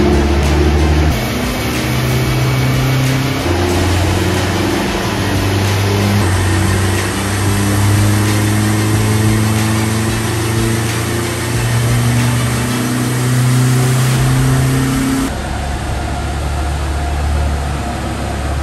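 Turbocharged MK2 VW Golf engine revving hard on a dyno, a loud sustained drone with steady harmonics climbing and shifting in pitch, boost rising, with no talk over it.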